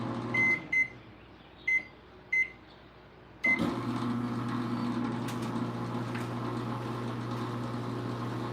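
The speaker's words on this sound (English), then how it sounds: "This microwave just sucks" A microwave oven gives four short, clear beeps, then hums steadily as it runs, with a low, constant drone and no talking.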